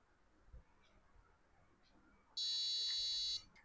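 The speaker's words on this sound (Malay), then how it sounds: "saya boleh upload arahan ini dan buzzer ini akan berbunyi" A piezo buzzer on a REKA EDUKIT microcontroller board beeps once with a steady, shrill tone that holds for about a second, loud and close over faint room noise.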